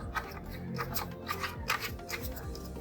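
An antenna is screwed onto a ZTE MF293N router, giving close, quiet scratchy clicks and rubbing in quick irregular bursts with no talk.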